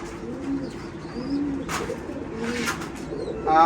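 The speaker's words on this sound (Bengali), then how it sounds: "এটা হাই ফ্লায়ার কবুতর" Soft, low cooing of a young high flyer pigeon repeats in gentle rolling phrases nearby, with brief rustles and a flutter of movement toward the end.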